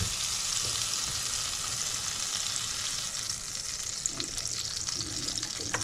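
Butter and oil frying in a hot pan for shrimp and scallop fried rice, a steady close crackling sizzle that runs throughout with a few brighter pops, no voices.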